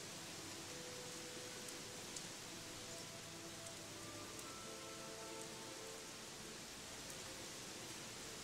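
Steady rain in the video game Gothic 3 falls as a dense, continuous hiss across the whole stretch, evenly loud with faint tonal game ambience beneath and no talking.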